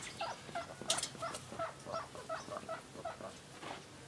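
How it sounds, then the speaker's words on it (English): Ducks in a pen give rapid, repeated alarmed calls, a busy run of short nasal squawks fairly close and moderately loud, with no talking. "I just knew when the ducks made a noise like that."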